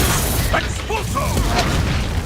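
A burst from the Expulso spell in Hogwarts Legacy during a wizard duel, a loud dense boom sustained through the moment with a spoken incantation and voices over it.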